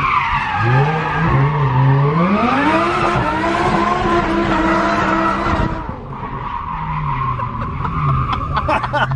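A car drifts with its engine revving hard through rising and falling harmonic sweeps and its tires skidding and squealing, loud and close for several seconds before dipping briefly and then pulling again.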